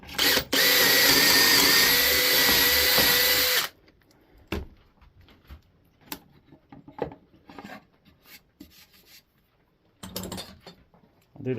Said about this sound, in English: Drill my hole.